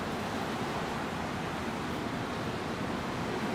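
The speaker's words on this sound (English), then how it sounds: "Water's absolutely bucketing down." Heavy tropical-low rain pours down with gale-force wind, heard from indoors as a loud, steady, unbroken roar of water and gusts with no pauses throughout.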